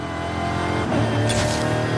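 A car racing at high speed in Forza, a loud steady engine roar climbing in pitch as it accelerates, with a whooshing rush near the end.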